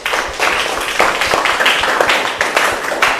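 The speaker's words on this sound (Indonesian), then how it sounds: "Beri tepuk tangan untuk kelompok 2" A classroom of students claps for group 2 in a lesson, loud close handclaps in an uneven, rapid patter that continues for a few seconds, with no voices over it.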